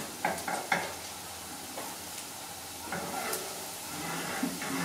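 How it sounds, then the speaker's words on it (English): Garlic stirring and frying in oil in a pan for Filipino lumpiang sariwa, a steady close sizzle with a few scraping stirs near the start and scattered clinks later. "And then we just stir it till it gets a little bit"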